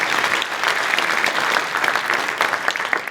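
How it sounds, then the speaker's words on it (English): Warm applause from a conference audience welcoming a panel speaker at a gender summit, a continuous dense wash of clapping, fairly loud and steady throughout. "A warm applause for you."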